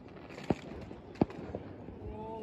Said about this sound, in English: Oh, look, wait, two fireworks at once. I'm recording two fireworks at once.